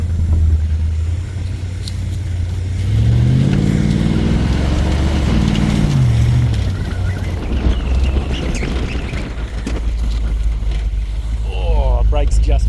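A Ford XD Falcon drives on a road test, its engine droning loudly with rising and falling revs under heavy wind rumble, with voices briefly audible near the end.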